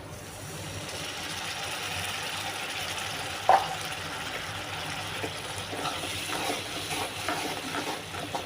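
Water is poured into sizzling masala in a pan for bhindi, a steady frying hiss with a sharp splash near the middle and some stirring scrapes after, close and moderately loud.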